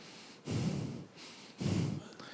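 A person breathes out twice, slowly and audibly, as if in front of a baby's face. Each exhale is a soft, close, breathy rush lasting about half a second, with no speech.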